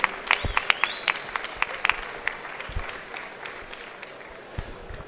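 Scattered applause from a modest audience after a startup pitch at an agricultural startup event, sparse distinct claps early that thin into a light patter, with no one talking.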